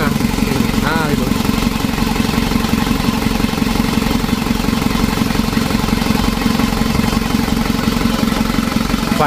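Rebuilt Isuzu Traga engine running steadily at idle, a loud continuous mechanical drone with a fan belt squeal and ticking close by throughout.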